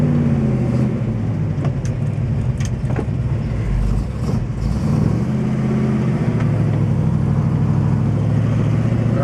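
A 1967 Chevrolet Chevelle SS 396 with drum brakes all around and a 10-bolt rear end drives on a road, its engine rumbling low and steady from inside the cabin with passing traffic noise, no talking.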